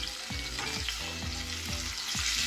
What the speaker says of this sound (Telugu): ఈ విధంగా వేపాలి, అడుగంటకుండా